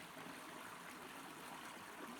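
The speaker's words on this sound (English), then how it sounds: "So just listening to the water." A stream in nature flows in a soft, continuous rush, faint and even, with no voices or other sounds.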